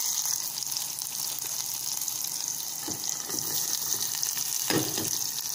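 Onions and green chillies fry in a pan with a steady soft sizzle throughout, with a few brief louder crackles and stirring sounds near the end.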